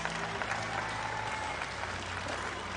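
Crowd at the Dew Tour Des Moines adaptive street finals applauding a skater, a steady wash of clapping and cheering from a distant audience lasting the whole moment.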